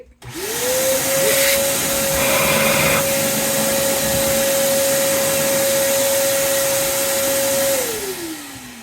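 A vacuum cleaner sucks up sawdust, starting up abruptly and running as a loud, steady whine for several seconds close by before winding down at the end.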